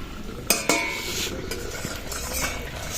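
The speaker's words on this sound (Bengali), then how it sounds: "পেঁয়াজটা কেটে নেব ঢাকাটা খুলে নি" A metal lid comes off a cooking pot with two sharp clinks close together, then a soft sizzle and stirring continue in a kitchen without speech.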